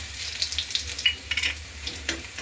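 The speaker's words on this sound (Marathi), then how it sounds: "लसणाला थोडं परतून घेऊ" Garlic sizzling in hot oil with mustard seeds and cumin already crackled, a close, steady fry with scattered sharp pops and a few scraping stirs, no voices.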